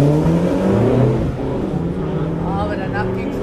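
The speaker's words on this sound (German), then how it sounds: "So, nochmal ein Audi S3." A 1999 Audi S3 with a 1.8T engine, 210 PS and quattro all-wheel drive accelerates hard in a quarter-mile drag race at Aldenhoven. The engine drones and climbs in pitch under a loud announcer's voice.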